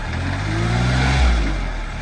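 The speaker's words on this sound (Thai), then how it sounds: "เครื่องยนต์ติดง่ายนะครับ" A 2008 Kubota L2808 tractor, a 28-horsepower four-wheel-drive diesel, runs close by with a steady mid-pitched engine drone that swells briefly midway, with no talk.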